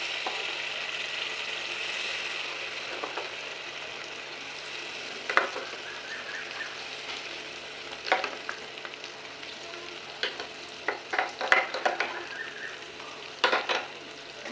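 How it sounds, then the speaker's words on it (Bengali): Ginger-garlic paste frying in a pan for Bengali prawn malai curry, with a steady low sizzle and occasional soft scraping clicks of a spoon stirring now and then, close and alone. "হালকা হালকা নাড়িয়ে নিলাম"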